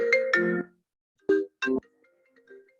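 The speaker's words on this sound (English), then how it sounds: "Please silence your cell phones." A cell phone ringtone during a journalists' panel discussion: short melodic electronic chimes in two bursts separated by a brief gap, with faint trailing notes and no talk.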